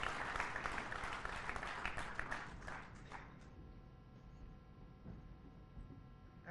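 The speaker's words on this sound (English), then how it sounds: "please join me in applauding a wonderful inaugural speech" At the Raisina Dialogue 2018 conference, an audience applauds loudly after an inaugural speech, then the clapping thins out and fades within a few seconds into a quieter hall.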